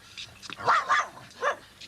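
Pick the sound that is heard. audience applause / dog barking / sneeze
dog barking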